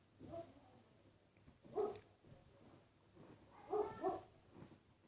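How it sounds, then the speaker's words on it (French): A dog barks in a few separate bursts, moderately close, with quiet gaps in between and no talking. "Excusez-moi pour mon chien qui aboie."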